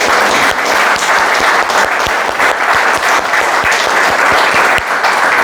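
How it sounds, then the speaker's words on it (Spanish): A large audience applauds an event speaker, loud dense clapping sustained for several seconds with steady rhythmic beats running through it. "Les quiero dar un aplauso muy, muy cariñoso para ustedes"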